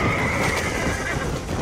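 In the video game Red Dead Redemption, horses pulling a buckboard let out a loud, close whinny over a gritty rolling background of hooves and wheels, brief and alone without talk.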